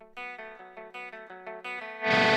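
An electric guitar played through a Fractal Axe FX3, with clean and distorted amps blended, picks a run of about ten evenly spaced notes, then a louder, gritty strummed chord rings out at the end.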